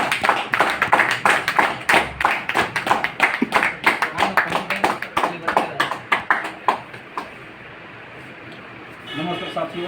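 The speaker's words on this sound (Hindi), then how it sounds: "ताली सर जी के लिए" An audience at a meeting in Dehri claps for a speaker who is being welcomed. About seven seconds of brisk, rhythmic hand claps sound close and loud, then stop, leaving a quiet room.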